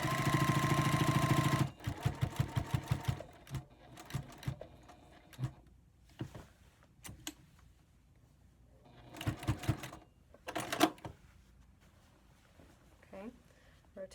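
A home sewing machine stitches down quilt binding in short bursts of rapid needle clatter, stopping and starting several times, with a louder motor run at the start and quiet pauses between.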